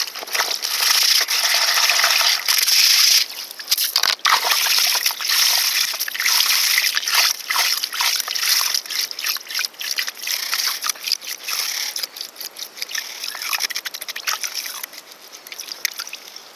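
Continuous water sloshing and splashing in a gold pan while material sucked from a hole with a yabby pump is washed, close and loud with rhythmic swirls and splatters and no talking.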